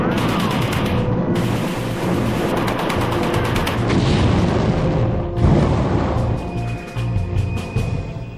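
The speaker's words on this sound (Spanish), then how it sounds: "Se inició un tiroteo desde los edificios de la otra orilla." Gunfire from buildings on the far bank during the Battle of Berlin: dense, loud bursts of rifle and automatic fire mixed with booming blasts, a continuous rattling barrage.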